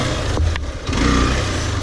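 A Hero Xtreme 200S motorcycle's exhaust rumbles close by with a steady, bass-heavy idle and a slight dip in the middle of the burst.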